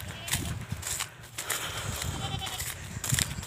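Goats bleat in a pasture with short, repeated calls at close range, mixed with rustling and shuffling movement and some background voices.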